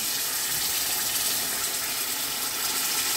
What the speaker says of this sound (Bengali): পাতলা জল দিয়ে আসি ডাকিয়া দিলে মাছে জল দিলাইছি